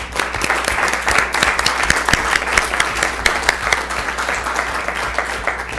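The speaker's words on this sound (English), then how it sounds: "I'd actually like to personally give them a round of applause." A round of applause at a school district committee meeting on small school closures, a room of people clapping in a dense, steady burst of sharp hand claps that holds for several seconds.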